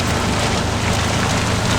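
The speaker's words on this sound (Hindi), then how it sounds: "बाकी बारिश देखो आप, बारिश बहुत तेज हो रही है।" Heavy rain pours down steadily and close by, a dense, continuous hiss of drops beating on surfaces with no voices over it.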